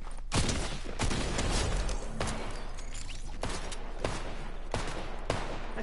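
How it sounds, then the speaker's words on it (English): Rapid gunfire in the Fortnite video game, sharp shots cracking at irregular intervals over steady background game noise, loud and close with no talking. "I see you shooting at me"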